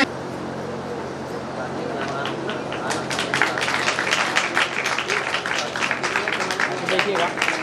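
Applause from the audience at a community award ceremony honouring meritorious students, building from a murmur into a dense round of clapping from many hands, with voices and crowd chatter mixed throughout.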